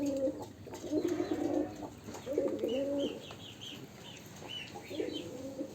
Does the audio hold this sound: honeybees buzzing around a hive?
no